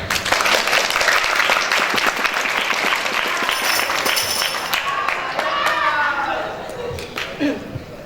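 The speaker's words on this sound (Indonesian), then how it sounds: "Tepuk tangan dulu" An audience at a school Maulid Nabi Muhammad celebration bursts into loud, dense applause. The clapping thins and fades toward the end as a voice and some crowd noise come through underneath.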